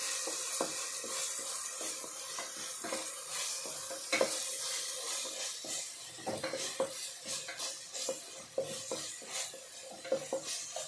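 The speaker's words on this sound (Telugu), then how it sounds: "పచ్చిమిర్చి కరివేపాకు ఇది వేస్తాం కొంచెం పచ్చి వాసన పోయేదాకా తెలివేయండి" Green chilies and curry leaves fry in hot oil in a pan, a continuous loud sizzle and crackle with frequent scrapes and clinks of a spoon stirring against the metal throughout.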